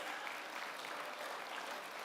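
A crowd at the Finke Desert Race presentation applauds the race volunteers, a faint, distant wash of continuous clapping with no voices on top.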